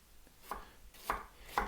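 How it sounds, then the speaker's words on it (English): Knife slicing an onion into thin half-moon pieces on a board, three crisp chopping cuts spaced about half a second apart, close and clear with no voices. "So I'm going to do these as before, slicing them into thin half moon pieces."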